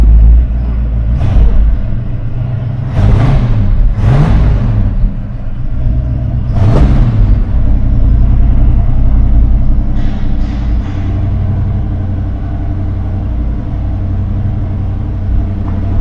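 A 1975 Ford F-100 pickup's 351 V8 runs loud and close with a deep rumble, rising in several short revs before settling back to a steady burble.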